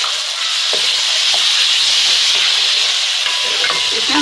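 Tomatoes hit crushed garlic and ginger frying in a pot for a mixed vegetable handi. A loud, continuous hissing sizzle is broken by a few clinks and scrapes of stirring, with no talk.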